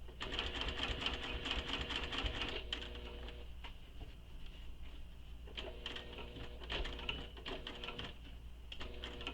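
A home sewing machine stitches a seam and backstitches to the end of it, the fabric held flat under the presser foot: a steady whirring needle chatter, a short pause, then several more bursts of stitching, close and moderately quiet.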